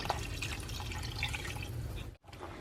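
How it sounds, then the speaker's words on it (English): About two cups of water pour into a soup pot of chicken noodle soup, a close, bubbling, splashing stream that stops abruptly near the end before a brief trickle resumes. "Okay, so I'll add about 2 cups of water to this."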